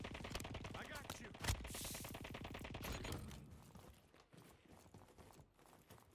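Sustained automatic gunfire in Call of Duty Black Ops 6 Warzone Resurgence on Area 99, a long rapid rattle of shots with a louder impact midway, continuing and then thinning into scattered distant fire.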